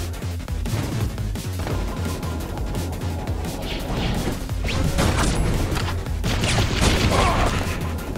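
Sniper rifle shots and automatic turret gunfire in the video game Choke Point, a dense, loud barrage of overlapping blasts and crashes that runs steadily throughout with rapid repeated bursts.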